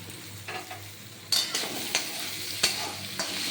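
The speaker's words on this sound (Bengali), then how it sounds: "টমেটো এটা দিয়ে আমি নেড়ে ছেড়ে নেব" Tomato and capsicum stir-fried in a pan for a breakfast oats dish: a low steady sizzle with scraping stirs that rise louder from midway, several sharp spatula strokes against the pan, close and alone.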